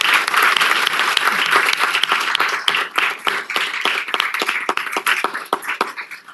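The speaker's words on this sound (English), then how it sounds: "Can we do another round of applause for Adrian?" Sustained audience applause at an Elk Grove city council meeting, dense steady clapping from a crowd filling the room, loud and continuous before tapering slightly toward the end.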